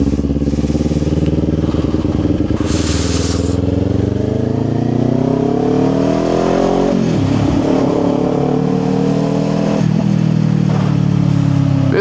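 A motorcycle engine revs loudly and continuously while riding, its pitch climbing and dipping through throttle changes and gear shifts, close and dominant with wind noise and no speech.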